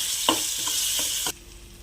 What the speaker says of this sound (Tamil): தக்காளி நல்லா பேஸ்ட்டு மாதிரி வதங்கட்டும்